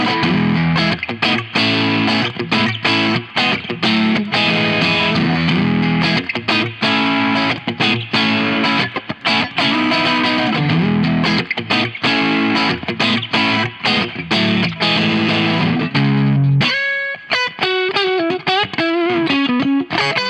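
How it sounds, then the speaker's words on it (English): A Stratocaster set to its out-of-phase pickup tone plays through a NUX Amp in a Box pedal, with loud, continuous distorted strummed chords, then a short run of cleaner ringing single notes near the end. "I really wanted to try the out of phase tone that you get on a Stratocaster"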